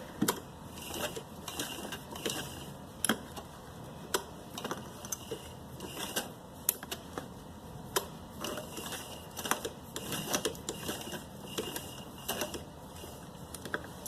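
A sewing machine stitching lace onto a kurti neckline, with quiet rapid needle clatter in short runs and pauses, close and faint with no talk.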